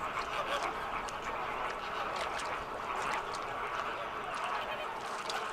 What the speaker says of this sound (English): Cuba is home to the largest colony of Caribbean flamingos in the world